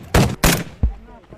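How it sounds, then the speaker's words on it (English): Heavy DShK machine guns fire during frontline fighting against ISIS, giving two loud, close bursts followed by a single booming shot, with no voices. "These guys are also using heavy machine gun dushkas and RPGs against ISIS positions."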